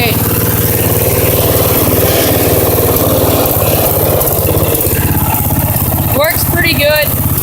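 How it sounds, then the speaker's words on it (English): A four-wheeler engine runs through a homemade exhaust, a loud, close, continuous rumble with a steady pulsing beat, while a person talks over it. "this is what it sounds like with the four-wheeler exhaust"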